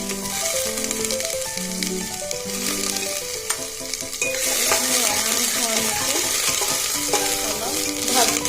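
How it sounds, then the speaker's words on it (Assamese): Panch phoron, chopped onion and a dried red chilli sizzle and crackle in hot oil for lentil dal, a steady close frying hiss that grows louder midway, with scraping stirs throughout and no talk. "এয়া তেলখিনি গৰম হোৱা দেখিছে, তাতে কেইটামান পাঁচফোৰণ দি দিলো আৰু এটা কাটি লোৱা পিঁয়াজ আৰু এটা শুকান জলকীয়া লগতে দি দিলোঁ"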